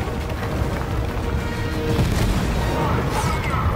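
Incoming fire pounds the field in Fortnite's Season 3 collision event, a dense, continuous roar of heavy booms and blasts with louder impacts toward the end, close and without a break.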